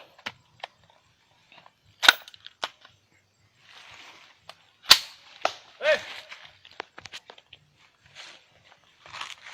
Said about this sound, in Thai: นี่นะครับคือลูกที่ เอาดินปืนออกแต่ยังมีแก๊ปอยู่นะครับ